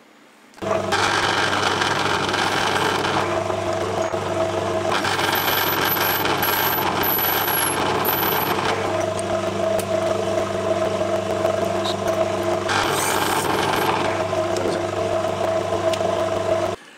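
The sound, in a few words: drilling a hole in brass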